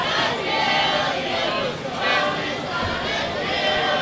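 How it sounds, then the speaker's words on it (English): A wrestling crowd at a BVW heavyweight title match between Frank The Tank and Funnybone chants in a steady, rhythmic swell for Funnybone, loud and filling the arena with a dense mass of voices. "Crowd getting behind Funnybone chanting"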